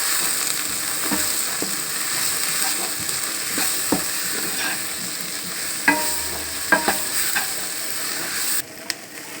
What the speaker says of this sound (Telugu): ఇప్పుడు బాగా కలుపుదాం